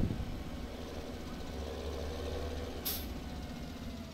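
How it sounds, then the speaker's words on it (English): A tractor in the Farming Simulator 17 video game idles with a steady low engine rumble, then its air brake releases a single short, sharp hiss partway through. "Here's my tractor."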